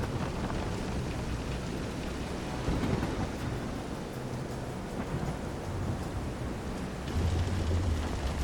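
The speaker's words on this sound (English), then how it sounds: "This is some storm. Careful of the swell of the waves." Storm in the video game Visions of Mana: steady heavy rain roars without pause while deep rumbling thunder swells and rolls beneath it, loudest around the middle and again near the end, with no talking.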